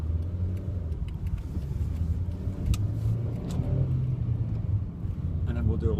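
A car pulling out during a driving lesson, its engine a steady close low rumble with a slight rise as it accelerates, under an instructor talking inside the car.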